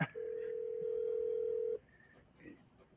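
A telephone tone sounds in one long, steady beep lasting well over a second, followed by quieter background and faint noises.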